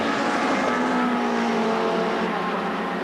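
Touring cars from the 1990 British Touring Car Championship race at Thruxton, their engines a loud, steady roar that fills the scene with no voices over it.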